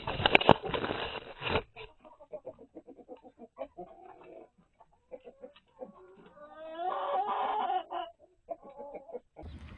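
Chickens and turkeys cluck and squawk in a busy, irregular homestead flock, with a loud burst of flapping or squawking at the start and a long drawn-out call later.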